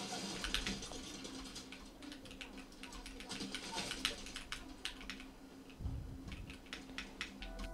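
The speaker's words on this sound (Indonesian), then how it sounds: "keyboard mechanical tuh suaranya lebih berisik" Fast, steady mechanical keyboard typing with a dense run of clicky keystrokes, fairly quiet with a low hum underneath.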